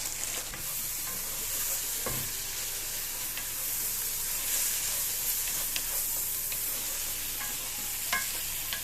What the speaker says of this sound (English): Gotta fry for a bit so those spices can get incorporated in there.